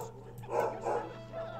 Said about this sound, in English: Oh my god, my dog is barking.